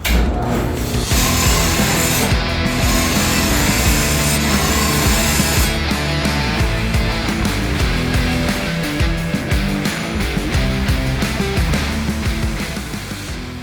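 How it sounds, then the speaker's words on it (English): Lawn mower decks being scraped, a loud, continuous gritty rubbing and rasping of metal with short repeated strokes, close up and steady throughout with no voices. "We'll scrape the decks every day and switch the blades."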